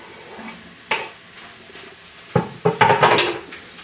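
Chunky onion pieces tipped into a pan alongside beef for chilli, giving a few sharp clatters and scrapes that build into a louder burst of tumbling and clinking near the end.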